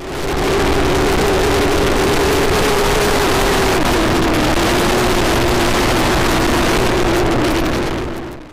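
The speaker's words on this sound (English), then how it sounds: "the obvious loud audio of the wind rushing past your camera" Loud, continuous wind roar buffets a Thinkware dash cam mounted on a moving motorbike, a dense rushing noise with a faint engine drone beneath, steady from start to finish.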